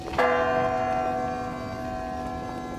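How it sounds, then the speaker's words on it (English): A church bell strikes once at a funeral and its deep, humming tone rings on and slowly fades, with a faint outdoor murmur underneath. "As the church bells rang"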